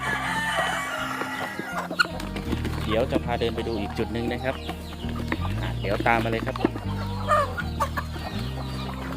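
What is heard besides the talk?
native chickens clucking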